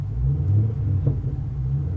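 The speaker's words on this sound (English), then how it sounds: "Little exhaust note, little burble on the decel." Chevy SS fitted with an MRT cat-back performance exhaust, a deep low rumble and burble on deceleration, close and steady with slight pulsing.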